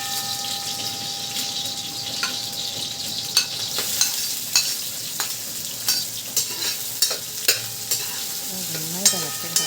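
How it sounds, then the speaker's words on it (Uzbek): Meat bones fry in hot oil in a cooking pot, giving a constant close crackling sizzle punctuated by repeated sharp clinks and scrapes of a stirring utensil against the metal. "Endi go'shtning ichidan ozgina suyak chiqqan edi. Uni qovurib yuboraman."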